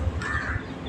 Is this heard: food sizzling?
no